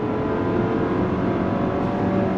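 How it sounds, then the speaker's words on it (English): A 2024 GMC Acadia Denali's 4-cylinder turbo engine with an 8-speed transmission pulls hard under full throttle, a steady, loud, droning engine roar heard from inside the cabin, without any voices. "The bad news is you're hearing a lot of 4-cylinder turbo."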